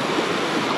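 The Rio da Prata flows below a trail crossing in the Bocaina mountains, a brief steady rush of water, fairly loud and close with no voices.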